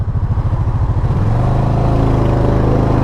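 A Honda PC800 motorcycle engine with a stainless steel exhaust runs steadily up close, a smooth, soft scooter-like drone whose pulsing rhythm settles into an even hum partway through.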